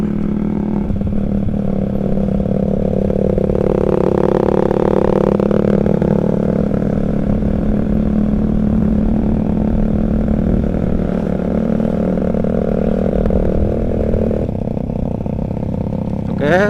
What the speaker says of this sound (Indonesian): Suara knalpot dari CLD.